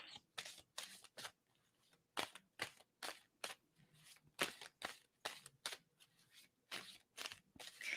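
Tarot cards are shuffled in quick bursts of crisp riffles and slaps, repeated in an uneven rhythm, close and fairly quiet, with no voices.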